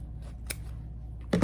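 Scissors chop through material while a pin cushion and clip storage box is being made, giving a single crisp snip near the end after a quiet stretch.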